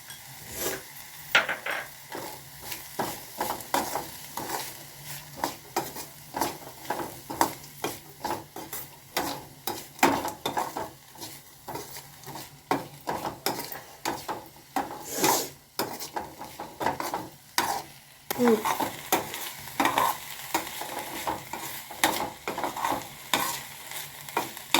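Onions fry with turmeric in a pan under a soft, constant sizzle, while a spoon scrapes and knocks against the pan in repeated uneven strokes throughout.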